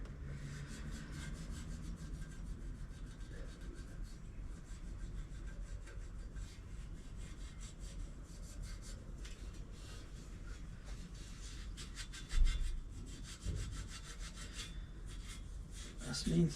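Heavy sandpaper rasps steadily over the chrome of a small toy car in quiet, continuous back-and-forth rubbing strokes, with a brief knock partway through.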